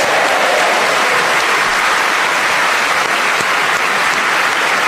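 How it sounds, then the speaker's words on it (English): Loud, sustained applause from a seaside studio audience at a BBC panel game, a dense continuous clatter of clapping hands holding steady throughout with no voices over it. "That round of applause, I'm sure, was for all 4 of them"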